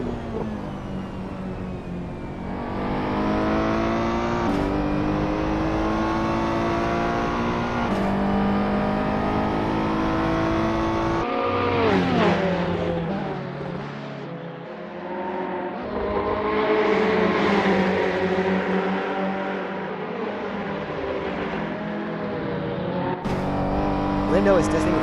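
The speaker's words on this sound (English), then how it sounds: "Lindo is testing the Ferrari 488 GT3 under more aggressive conditions." A Ferrari 488 GT3 race car at the Interlagos circuit in the Assetto Corsa racing game, its engine revving loudly through upshifts and downshifts, with a commentator talking over it.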